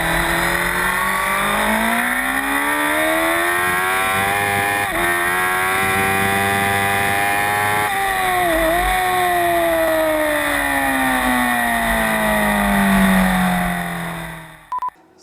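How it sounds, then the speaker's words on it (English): A 2012 Suzuki GSX-R1000 on a race track, its engine screaming at high revs through long pulls and quick gear changes, steady and close before cutting off at the end. "there are bikes going on track, so it's my turn to go, try this out for myself"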